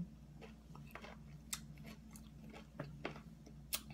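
Crunchy dried sour fruit is chewed up close, a steady series of small crisp bites and crackling crunches, quiet and without talk.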